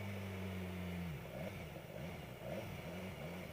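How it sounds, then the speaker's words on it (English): Car engine in rain mode revved several times, a steady idle hum giving way to a series of short, subdued rises and falls in pitch, moderately loud and close with no talking. "See, when I rev the engine in rain mode,"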